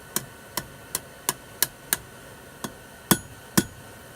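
Hammer whacks setting a straight nail for a hook, nine sharp separate strikes spaced roughly half a second apart, with a brief pause before the last two louder blows, close and clear with no talk.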